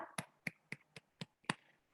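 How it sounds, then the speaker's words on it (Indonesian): Classroom applause comes as six faint, sharp hand claps in an even rhythm, each short and separate, with quiet between them. "Tepuk tangan dulu untuk kita."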